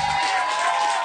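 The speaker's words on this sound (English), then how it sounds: "Round of applause." Studio audience clapping and cheering for a pro skater, a short, moderately loud burst of mixed claps and crowd noise, fairly even throughout.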